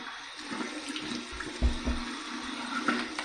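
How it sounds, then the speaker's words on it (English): Cold water running from a tap for a rinse during a wet shave, a steady close splashing flow with a few louder splashes as hands move through it, no talk. "Here's my cold water rinse."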